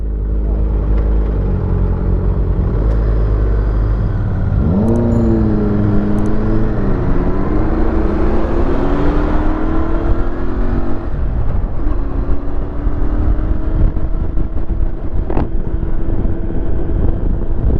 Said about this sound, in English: So this is a 650 parallel twin engine.